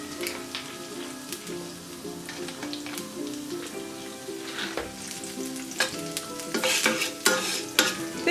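Cashews roasting in ghee with chopped ginger in a pan for ven pongal, a close crackling sizzle with spoon scrapes that grows louder and busier toward the end, over faint steady background music and no speech.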